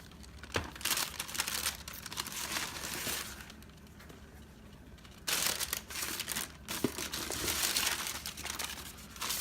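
Light wrapping paper with silver accents from a Jordan 7 Retro Doernbecher shoe box crinkles and rustles in close, bursty handling, with a short pause before the crumpling resumes.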